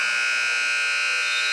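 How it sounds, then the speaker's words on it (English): A steady, piercing electronic buzzer marking the end of the first quarter at a high school state tournament basketball game, sounding continuously and loud, with no talk over it. "the final buzzer of the first quarter sounds"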